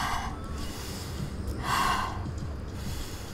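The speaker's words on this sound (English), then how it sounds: "Big breath." A big breath drawn in during a full-body strength workout warm-up, a long audible inhale and exhale swelling midway, heard alone and close.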